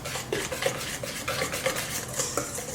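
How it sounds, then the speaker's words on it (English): Flour is whisked a little at a time into fruit cake batter in a bowl, giving quick repeated scraping strokes with light clinks, close and steady. "now add the flour little by little"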